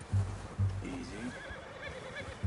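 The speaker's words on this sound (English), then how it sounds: "I'm gonna hitch Taima over here" A horse whinnies in the video game Red Dead Redemption II, a clear close neigh with low snorting thumps around it, over game ambience.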